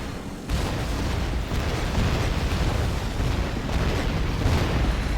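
A Volga Barrage artillery strike in the strategy game Rise of the Reds lands as a dense, continuous roar of blended explosions, loud and sustained for about five seconds after a sudden onset.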